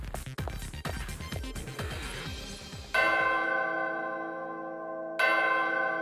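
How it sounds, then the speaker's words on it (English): A video game bell rings to open a door, sounding two deep resonant church-like strikes with long ringing decays that follow a short run of clattering game sounds. "So the door opens if you ring the bell?"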